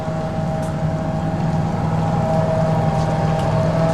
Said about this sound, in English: You can hear the generator going in the background